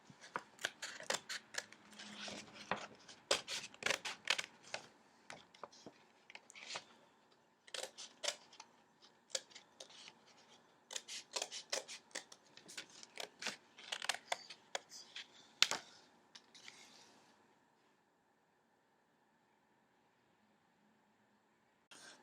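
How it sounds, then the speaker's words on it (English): Scissors snip through paper in quick, close bursts of crisp cuts, with rustling between clusters, before falling silent near the end. "Then I'm going to cut out the box in the middle of my paper."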